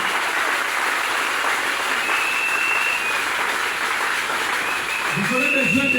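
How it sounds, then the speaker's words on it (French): A church congregation applauding during a French-language Sunday worship service, a steady, full, dense roar of clapping throughout, with a voice rising briefly near the end. "Acclamons le Seigneur Jésus"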